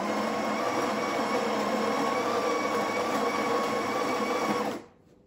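A Breville Barista Express BES870 espresso machine grinds coffee beans at grind size 8, giving a steady, loud, even mechanical whir that holds for several seconds before cutting off abruptly into near silence.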